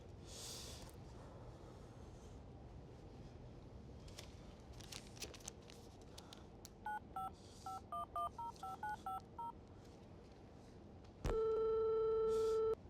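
A phone number is punched in as a quick series of short electronic DTMF beeps with uneven gaps, followed after a pause by a long steady tone on the line, all faint over low background noise.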